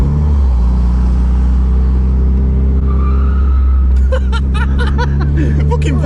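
A straight-piped, big-turbo Mazda MX-5 engine rumbles loudly and steadily up close, then laughter breaks out over the running engine in the last two seconds.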